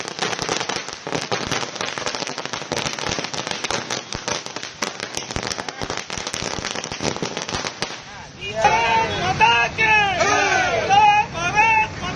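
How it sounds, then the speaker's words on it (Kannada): Firecrackers burst at a city traffic circle during a street celebration, a dense rapid crackling barrage of sharp pops for several seconds, followed by loud crowd cheering and shouting. "ನಗರದ ಓಬವ್ವ ವೃತ್ತದಲ್ಲಿ ಪಟಾಕಿ ಸಿಡಿಸಿ ಸಂಭ್ರಮಿಸಿದ್ರು"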